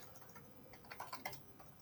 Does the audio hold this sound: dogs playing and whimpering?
no